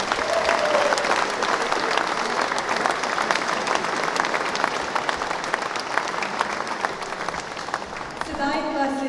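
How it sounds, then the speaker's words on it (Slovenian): Audience applause at a hunting choir and horn players' concert in Brežice, a dense sustained clapping from a large crowd that continues throughout, with a voice at the very end. "prosim za še en velik aplavz"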